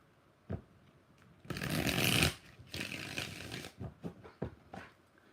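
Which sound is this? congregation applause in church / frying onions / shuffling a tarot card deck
shuffling a tarot card deck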